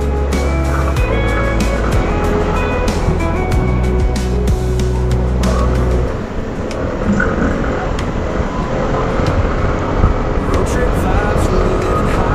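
A Motorstar ADV175 scooter running on the road, its thin, tinny engine and exhaust drone steady under wind noise, shifting to a rougher, lower tone midway, with someone talking over it.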